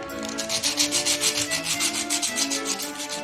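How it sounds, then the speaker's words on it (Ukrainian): Steady rhythmic rasping of sandpaper rubbed back and forth on the sharp edge of a wooden candle-holder part, close up, a quick even stroke repeating throughout with no voices. "Обробимо гострий край деталі за допомогою шліфувального паперу."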